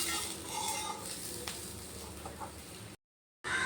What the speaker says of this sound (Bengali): এবার এই বেগুনগুলো লাল লাল করে ভেজে নেব।